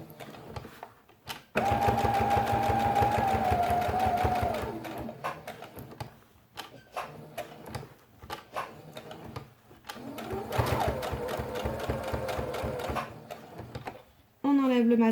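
A sewing machine stitching a felt quiet-book page, its needle whirring in steady bursts with short pauses between runs, close by, with a person talking over parts of it.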